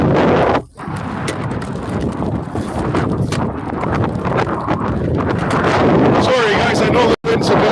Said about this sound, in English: I know the wind's a bit nuts.